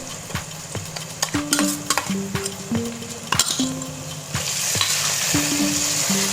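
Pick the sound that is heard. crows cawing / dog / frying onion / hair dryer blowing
frying onion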